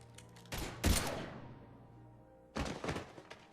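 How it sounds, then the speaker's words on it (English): Gunfire in the video game Mass Effect 3: a loud burst of rapid shots, then a second volley after a pause, with heavy thuds and decaying rumble between them and no talking. "Now open fire!"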